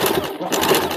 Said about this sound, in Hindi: इसी तरह से पूरा गोलाई में मशीन चला लेंगे।